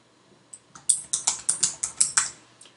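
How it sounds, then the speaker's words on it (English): A computer keyboard is tapped about a dozen times in a quick, even burst, each keystroke a crisp, close click with no talking. "if you type a word in here"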